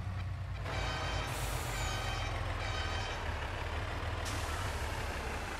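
A Mercedes L-series truck with a Randon trailer in Farming Simulator 22 runs with a steady low engine rumble, and a hissing burst of air rises over it as the trailer axle lowers, then eases and returns near the end.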